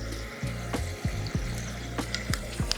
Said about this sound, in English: We're gonna do a little Worcestershire sauce in there too.